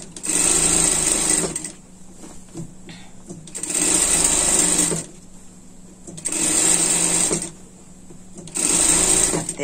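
A sewing machine stitches a pet sling bag in four loud, close bursts of rapid whirring, each lasting about a second or more, separated by short pauses of quiet handling.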